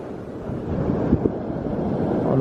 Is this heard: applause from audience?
no